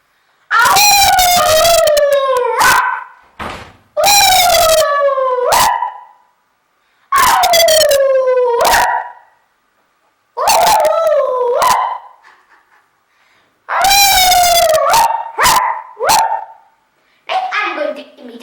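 A person imitates a dog's howl in several long, loud, wavering calls separated by short pauses, each ending in a brief yelp.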